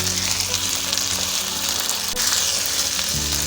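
Potatoes frying in a pan for an aloo methi curry, giving a steady, loud, broadband sizzle that holds throughout with small crackles and stirring movements, close up and with no talking.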